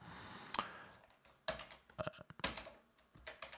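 Keys tapped on a computer keyboard while entering a line of C++ code, a few quick clusters of clicks with short pauses between them, close and fairly quiet, no voices.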